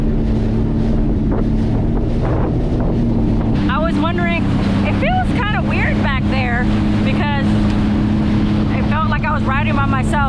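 A Sea-Doo jet ski runs across open water near Florida's Cape Romano, its engine droning steadily under heavy wind buffeting throughout, with a voice speaking intermittently over the roar.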